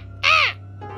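A single loud, harsh crow caw rings out for about a third of a second in a Halloween alphabet story, followed by a low steady hum.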